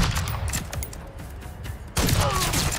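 Video game gunshots: a steady patter of shots through the clip, then a louder, denser burst near the end.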